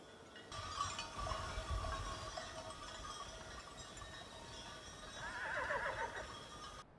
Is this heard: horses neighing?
yes